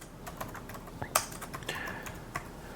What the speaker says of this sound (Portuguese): E aí eu dou um Enter.